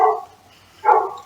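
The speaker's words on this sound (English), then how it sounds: "excuse the dog" Dog barking indoors, two short close barks separated by a brief pause.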